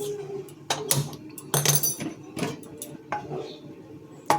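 A metal wok set down on a gas stove in a home kitchen, giving a few sharp clanks and clinks spread across a few seconds, close and fairly loud, with a quiet voice speaking in between.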